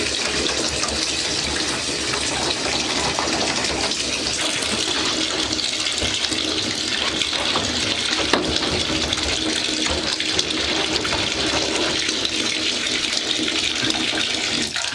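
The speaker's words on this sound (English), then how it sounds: "I'm just going to turn that faucet off because I don't need tons of water here" A faucet runs steadily while an egg incubator is rinsed, a loud continuous gushing and splashing of water into a basin with no break and no talk over it.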